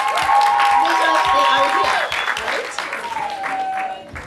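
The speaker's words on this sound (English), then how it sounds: "Clap for yourself." Audience clapping at a Rotary Club of Karen installation ceremony, a loud sustained burst of applause with crowd noise, while voices and tonal sounds run over it before it thins out.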